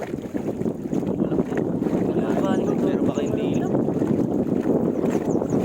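A motor boat engine runs steadily on open water, a loud, continuous rumble mixed with rushing water and wind buffeting the microphone, while people talk over it.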